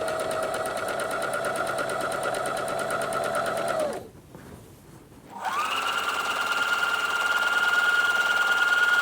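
A sewing machine runs steadily while stitching a zipper seam on a dress, goes quiet for about a second, then starts again with a slightly higher, even hum that stays close and constant.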